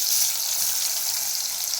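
Chopped onion frying in hot oil for a tempering gives a dense, continuous sizzle at close range, steady and unbroken for the whole short stretch with no talking.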